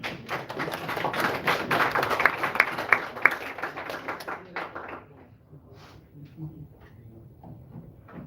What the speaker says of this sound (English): let's give a warm round of applause